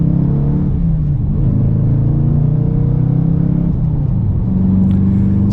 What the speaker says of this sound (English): All right, guys, we are setting off now in the Charger RT with that